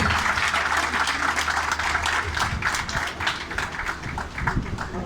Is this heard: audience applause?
yes